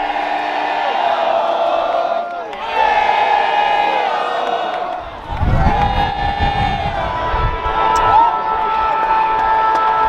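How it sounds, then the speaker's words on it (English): Loud crowd of football supporters cheering and chanting in an AFL stadium, sustained roaring voices with a surge of noise midway, close and dense throughout. "the cheer squad is getting loud"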